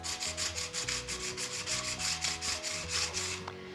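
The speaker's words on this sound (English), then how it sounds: "you're gonna start off with a piece of sandpaper" Sandpaper wrapped around a wooden stabilizer board rubs back and forth over wood boards, giving a steady rhythmic scraping of even, close strokes behind a layer of background music, with no talk.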